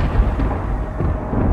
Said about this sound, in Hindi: एक जोरदार बिजली कड़की